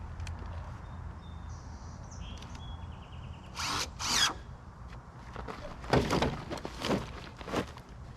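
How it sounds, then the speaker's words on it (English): A power drill drives screws into homemade lumber for a chicken shed. Brief whirring bursts sound at middle distance over a faint outdoor background with distant bird chirps, about four to five short runs with pauses between. "So I'm going to use screws here just to get the thing set"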